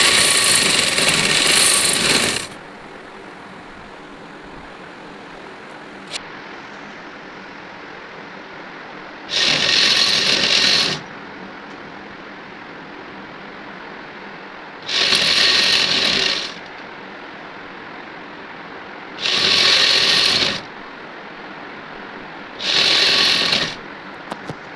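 A sewing machine stitches the side seam of a housecoat in five separate bursts of rapid whirring, each a few seconds long, with quiet pauses between them.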